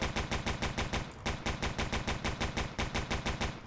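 Dual pistols firing together in E.Y.E: Divine Cybermancy, a rapid, evenly spaced stream of loud, close shots that keeps going without a break for several seconds.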